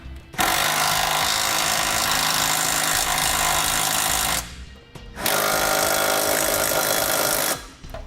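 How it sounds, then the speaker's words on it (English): A power tool with a 17mm socket drives and tightens M10 bolts on a trailer hitch mounted to a 2017 Kia Sorento, giving two loud rattling impact bursts separated by a short pause. "I'm going to come back with a 17mm socket and tighten up my M10 bolts."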